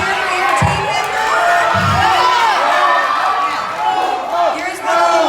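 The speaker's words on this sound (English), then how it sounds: "Make sure you cheer for your team member." Summer campers at a UGA Dawg Camp shout and cheer for a team member, an energetic crowd of young voices with a couple of thumps, loud and sustained throughout.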